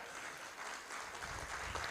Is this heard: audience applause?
yes